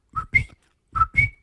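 A person whistles two quick two-note chirps, a lower note rising to a higher one, imitating a coqui frog's call, with a short pause between them.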